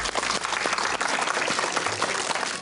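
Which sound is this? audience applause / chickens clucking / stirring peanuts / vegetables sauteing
audience applause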